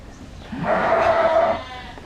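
Bottle-fed ewe lambs on a summer sheep pasture give a single bleat of about a second, fairly near and moderately loud over faint background noise.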